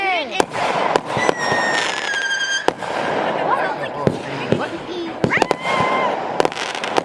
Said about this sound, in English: So I ended at the fireworks today.